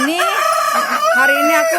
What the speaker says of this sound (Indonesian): yang ayam putih ini ya, ayam betina putih ini